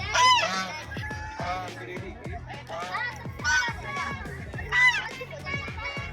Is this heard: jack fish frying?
no